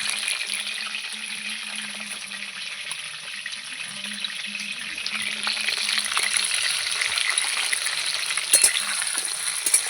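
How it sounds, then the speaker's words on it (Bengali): Large-cut potatoes frying in oil with salt for a goat curry, a steady crackling sizzle with occasional stirring clinks that grows slightly louder toward the end. "লবণটা দিয়ে আমি একটু ভালো করে ভেজে নেব"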